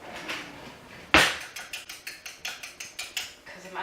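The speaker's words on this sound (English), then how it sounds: "put them all in a bowl together. Give them a little bit of a whisk up" Eggs being whisked in a bowl, a sharp clack followed by a steady rhythmic series of quick metallic taps against the bowl, close and clear.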